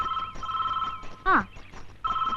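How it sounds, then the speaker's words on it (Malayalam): A telephone bell rings in steady electric trills, broken once by a brief voiced exclamation before the ringing resumes, fairly close and clear. "ഫോൺ ബെല്ലടിക്കുന്നു."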